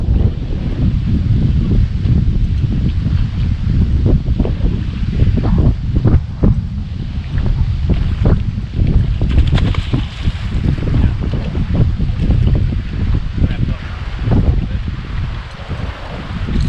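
Strong wind buffets the microphone on a fishing boat out on the water, a loud, continuous low roar with gusty bursts and some wave noise, and nobody speaking.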